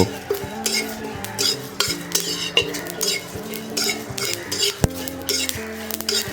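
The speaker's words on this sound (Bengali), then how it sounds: "এবারে ভালো মতো নাড়াচাড়া করে জিরা এবং তেজপাতাকে ভেজে নেব" A metal spoon stirring cumin seeds and a bay leaf in a hot wok, scraping and clinking in a busy uneven rhythm over a faint sizzle, close and fairly loud, alone.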